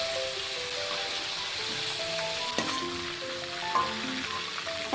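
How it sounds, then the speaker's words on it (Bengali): Pieces of mutton frying in oil give a steady close sizzle with scattered sharp pops and a brief stirring scrape. "বাকি মাটনগুলোকে একইভাবে ভেজে নেব।"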